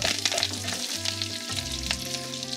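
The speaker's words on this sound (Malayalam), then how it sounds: "ഇത് നന്നായിട്ട് ചൂടായിട്ട് ഒരു ബ്രൗൺ നിറമായി കഴിയുമ്പോൾ അതിലേക്ക് ഞാൻ 2 തണ്ട് കറിവേപ്പില" Curry leaves and urad dal fry in hot oil for a mixed vegetable thoran, giving a steady, close crackling sizzle. Faint stirring scrapes run through it, and no one speaks.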